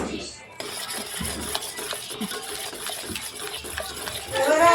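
Milk for kalakand, thickened in a pan, is stirred steadily with a spoon that scrapes and clinks against the metal, giving a continuous close-up scraping texture with small knocks throughout.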